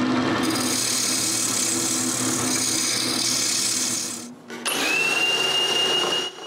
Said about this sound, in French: Je retourne donc sur le tour et je modifie les deux poulies